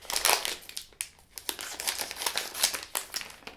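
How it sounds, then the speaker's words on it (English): A plastic packet of Warheads sour jelly beans is handled and cut open with scissors, giving close, bursty crinkling and crackling with a few sharper snips. "I've got some handy scissors, so let's give these an open"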